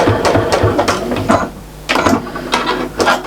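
Sewing machine stitching through a fabric Christmas tree mat with basting glue, heard as clattering mechanical bursts of needle strokes, several short runs with brief pauses, close and fairly loud with no talking.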